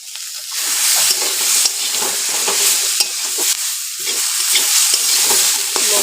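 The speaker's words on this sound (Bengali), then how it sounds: "লঙ্কা হলুদ সব কিছু এখন দিয়েছি, লবণ সব দেওয়া হয়ে গেছে। নেড়ে নেড়ে ভালো করে কষাবো" Fried fish with chili, turmeric and salt sizzles loudly in a hot pan while a spatula stirs and scrapes it in steady, repeated strokes, up close and without talk.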